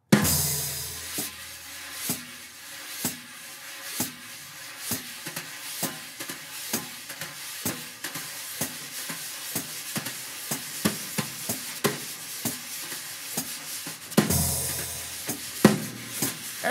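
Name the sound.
jazz brushes stirring on a snare drum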